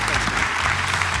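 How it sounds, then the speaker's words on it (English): A live podcast audience, at an episode on Oklahoma health, claps in a steady, dense round of applause that holds at an even level for the whole moment, with no voices on top. "Please give Lance a round of applause."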